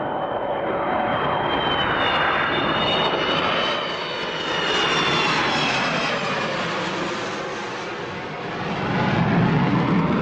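Steady airplane engine roar holding loud and continuous throughout, with a faint high whine riding on top and slight swells in level; no voices.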